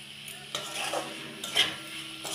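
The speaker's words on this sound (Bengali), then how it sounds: "এবার আমি এটাকে একটু ভাজা ভাজা করে নেব। একটু গ্যাসটা জোরে করে দেবেন" A spatula scrapes and stirs masala with salt and turmeric in a hot pan over high gas for a fish curry with onion shoots, giving repeated scraping strokes over a faint sizzle at close range.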